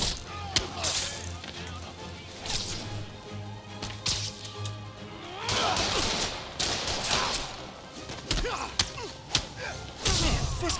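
Gunfire in the Spider-Man Remastered game on PC: rapid volleys of shots and sharp thuds mixed with impact noises and action effects, fairly quiet overall, with voices shouting over the combat.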